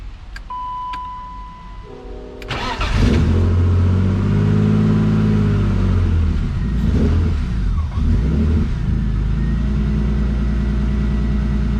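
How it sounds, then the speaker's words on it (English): A BMW E36 drift car engine with no seat and missing floor pans cranks over and fires up loudly, then is revved on the pedal in rising and falling surges, close and dominant, with no talk. "Let me start it again and run it on the pedal real quick."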